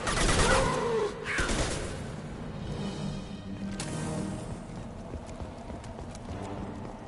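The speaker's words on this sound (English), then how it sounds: "Watch where you're shooting!" Rapid gunfire bursts crackle loudly in a science-fiction shooter game at the start, then fade into a steady rumble of distant shots and background noise with no talk.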